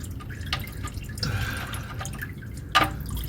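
Gasoline trickles and drips from the fuel tank of a 1974 Dodge D100 pickup into a pan, a steady close splashing with a few louder drips.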